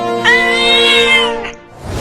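A cat gives one loud, close, drawn-out meow lasting over a second, clear and alone.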